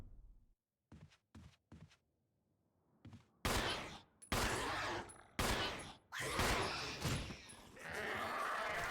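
Gunfire at an enemy in the survival-horror game Resident Evil: a few quiet early shots, then a series of loud, close blasts with short gaps between them.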